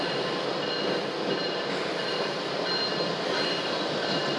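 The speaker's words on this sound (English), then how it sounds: "you're going to see a train chugging through that high water" A train rolls steadily through high flood water beside a makeshift dam, giving a continuous broad rumble and wash with faint wheel squeal, heard from nearby without talk.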